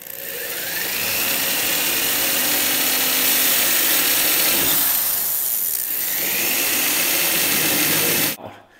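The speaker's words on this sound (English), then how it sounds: "now we're going to take our spot weld cutter and we're going to ride right inside that pilot hole that we just drilled" Spot weld cutter bit grinding steadily into the steel skin of a car door panel, a loud continuous high whine with a brief dip midway, running alone until it stops abruptly near the end.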